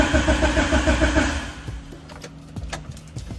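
A Honda Civic EG engine, just repaired and being tested, starts with a loud burst of revving that falls away to a quieter idle, with a few clicks and knocks nearby.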